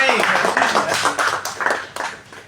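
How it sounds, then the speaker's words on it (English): A small group of people claps in scattered, uneven bursts, close by, while voices talk over the applause throughout. "Guys, clap for them."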